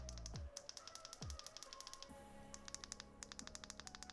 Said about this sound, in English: let's do the clicky button test